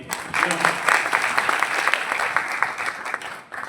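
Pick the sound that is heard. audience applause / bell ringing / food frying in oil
audience applause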